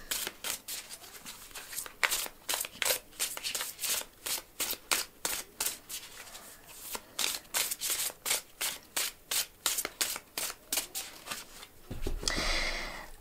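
Oracle cards are shuffled by hand in quick, regular riffling bursts, about two per second, close and crisp, with a rougher rubbing sound near the end.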